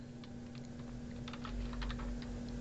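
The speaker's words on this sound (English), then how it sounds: "type in bins, and then the following numbers" Keystrokes on a computer keyboard while entering numbers into an Excel spreadsheet, a quick run of soft clicks over a steady low electrical hum, no voices.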